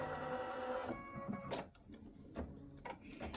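An embroidery machine sews an alignment stitch, giving a soft, steady mechanical whir with fast rhythmic ticking, quiet and close, with no voices.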